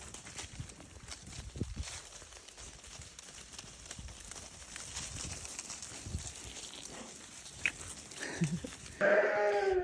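Sheep bleating on a farm among a homebred flock, brief calls scattered over steady outdoor background noise, with a louder, closer bleat near the end.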